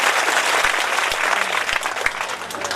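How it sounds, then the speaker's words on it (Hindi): An audience at a Bhagwat katha applauds with a dense, steady wash of clapping from many hands. It sounds close and fairly loud and lasts the whole stretch. "मेरे प्रजापति भैया जरेना वालों के लिए एक बार ताली बजा दीजिएगा"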